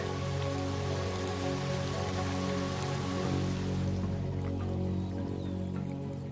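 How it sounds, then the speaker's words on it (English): Steady rain falls on the Serengeti in Tanzania, a dense continuous patter of drops on surfaces, even and fairly close throughout with no voices. "This is more than just rain, more than drinking water."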